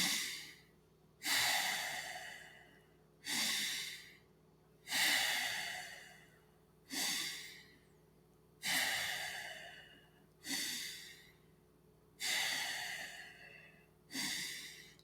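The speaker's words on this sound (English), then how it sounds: "Breathing in and out." Slow, deep breaths during a breathwork session, each inhale and exhale rising and falling in a steady rhythm, about eight full cycles, close and clear with no talking.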